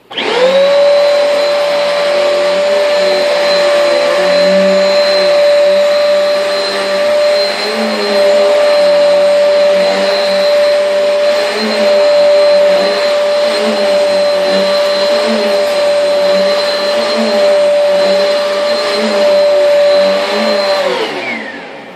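A Eureka Airspeed Ultra vacuum cleaner runs on carpet with a loud, steady motor whine that holds throughout, faint surges as it is pushed back and forth, then winds down at the end.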